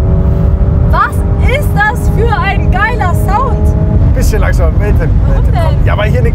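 An 840 hp ABT-tuned Lamborghini Urus SUV drives with a loud, steady engine drone throughout, while people talk excitedly over it near the microphone.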